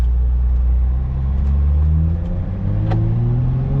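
A Toyota Supra pulling away on the road, with a loud, close engine rumble whose pitch rises steadily under acceleration and a brief shift around the middle.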